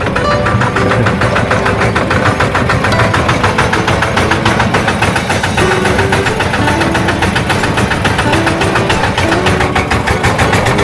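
A farm pickup truck engine labours in low gear up a rough, potholed mountain road, a steady loud drone that continues without a break.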